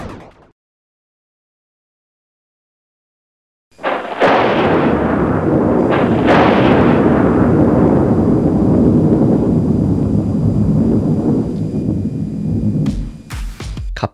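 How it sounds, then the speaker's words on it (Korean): At an amateur baseball game, a sudden lightning strike brings a loud thunder crack after near silence, then a long heavy rolling rumble that fills the air for around ten seconds, with sharp cracks near the end. "갑자기 천둥번개가 치더니"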